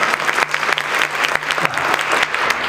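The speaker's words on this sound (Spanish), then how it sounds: "Voy a pedir que aplaudan, por favor. Un aplauso." An audience at a science talk in Zacatecas claps together in dense, sustained applause that rises and falls slightly but stays loud throughout, with a faint murmur of the crowd underneath.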